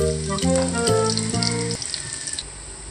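Garlic frying in hot oil in a hot pan gives a steady, close sizzle, with tonal music over the first part that drops away, leaving the sizzle alone before it fades near the end.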